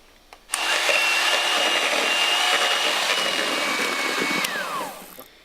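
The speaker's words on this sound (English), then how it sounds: "You can either do this with an electric whisk or by hand. Whisk the 5 egg whites until they go stiff." An electric whisk beats five egg whites toward stiff peaks, a loud close motor whine that starts abruptly, holds steady for several seconds, then drops in pitch as it winds down.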